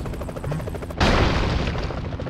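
A turkey stuffed with a bomb blows up in the action game Broforce, a sudden loud blast cutting into steady game noise and leaving a dense roaring rumble that lingers to the end.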